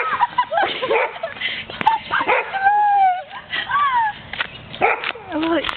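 A dog yips, whimpers and barks in short excited bursts with whiny rising cries, close and fairly loud, outdoors on a hike, with a person's voice briefly mixed in.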